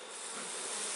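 Honey bees buzzing at an open hive during an inspection, a dense close hum of many insects that holds steady and swells slightly, with no talking.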